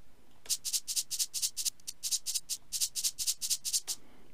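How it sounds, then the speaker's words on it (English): A bright krizbeat afrobeat shaker loop rattles in quick, evenly spaced bursts, grouped in short rhythmic phrases that repeat steadily and clearly in the foreground, with no voices over it. "Then when you go back, you would have this, the krizbeat shaker,"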